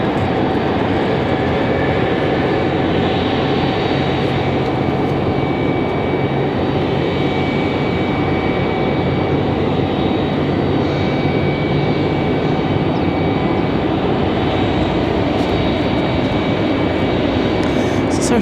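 Boeing 737-800 jet airliner at Raleigh-Durham airport, its engines producing a steady, loud broadband roar that holds unchanged for the whole stretch, with no talking.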